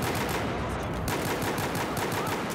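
QSZ-92 pistol fired in a video game, a rapid run of sharp, loud shots in quick succession, close up and without any talk over it.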